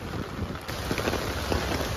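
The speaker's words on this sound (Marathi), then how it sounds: "पावसानं खूपच खतरनाक हजेरी लावले." Heavy monsoon rain pours down in Mumbai as a dense, continuous hiss of drops striking surfaces, loud and even throughout with no speech.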